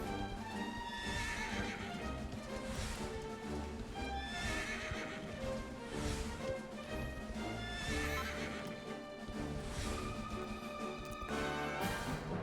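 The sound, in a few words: horses neighing and hooves clip-clopping in Dragon Quest 11 video game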